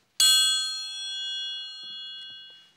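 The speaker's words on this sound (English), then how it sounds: "A triangle." A metal triangle is struck once, giving a bright, shimmering ring that starts sharply and decays smoothly over about two seconds, alone and close.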